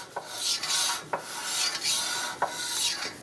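Rear parking brake shoes on a Subaru Crosstrek lightly scraping against the rotor as it is turned by hand, a soft rhythmic rasp in repeating sweeps, close and quiet with no talking.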